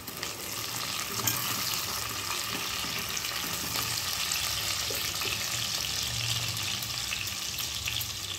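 Onions frying in a pan until golden brown for chicken curry, a dense continuous hiss of sizzling oil, steady and close with no talk.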